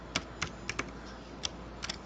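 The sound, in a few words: typing code on a computer keyboard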